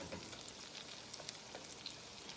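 Hamburger patties for Salisbury steak fry in oil in a pan, a faint, steady sizzle with small scattered pops and no speech.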